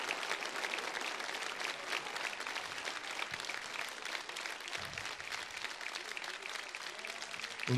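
Sustained applause from an audience for an orchestra, a dense, even clatter of many hands clapping at close range that carries steadily from start to finish.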